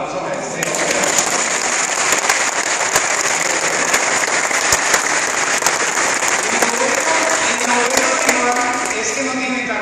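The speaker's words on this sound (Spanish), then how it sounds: "Un aplauso para este." Dense, sustained applause from a church congregation, a steady wash of many hands clapping at full strength for nearly ten seconds, with a voice faintly audible underneath.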